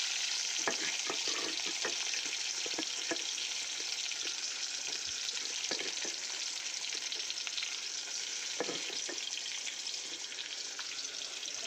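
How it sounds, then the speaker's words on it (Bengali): Onions frying in oil in a pan for a sea fish curry, giving a steady, close sizzle throughout with occasional stirring clicks and scrapes and no voices. "এখন পেঁয়াজ দিয়ে দিব। পেঁয়াজের সাথে এই টকগুলো দিয়ে দিব।"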